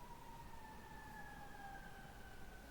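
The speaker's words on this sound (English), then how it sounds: "they're still going on with the sirens out there" Emergency vehicle sirens wail outdoors in the distance, a faint steady tone gliding slowly downward over a noisy background.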